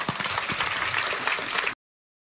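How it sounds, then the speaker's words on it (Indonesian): Short burst of congregation applause during a church sermon, dense clapping at full strength that cuts off abruptly into silence. "Anda boleh tepuk tangan."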